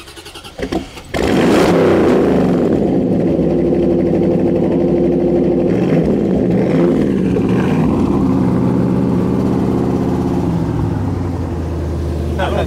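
A Chevrolet Corvette engine cranks briefly, catches and settles into a loud, steady rumbling idle that runs close up for several seconds, with faint talk in the background.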